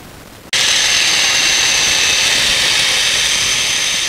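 A Makita 7104 chain mortiser bursts into a loud, steady high-pitched whine as it cuts a mortise into a pine beam, running continuously after an abrupt start.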